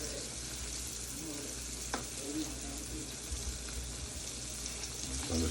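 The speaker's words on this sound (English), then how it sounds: "So I'm just lightly cooking the liver" Liver frying lightly in a pan for smothered liver and onions gives a steady close sizzle, with a brief scrape partway through and a low background hum, no talking.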